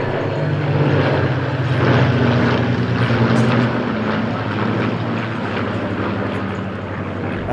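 A Messerschmitt 109 with a direct-injected aircraft engine flying overhead, a loud continuous propeller drone that swells in the first few seconds, then settles into a steady, slightly fading roar.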